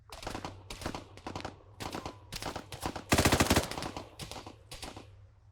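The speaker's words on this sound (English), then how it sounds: "Fire at that soldier." Soldiers firing rifles in the video game Arma 3, with rapid bursts of close gunfire repeating in quick clusters and a dense automatic volley in the middle, loud and with no talk over it.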